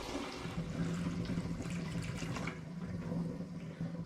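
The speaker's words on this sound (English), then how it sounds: "So I'm just pouring now with a funnel." Cider pours through a funnel into a glass demijohn, a soft continuous trickle and gurgle of liquid heard up close at low volume.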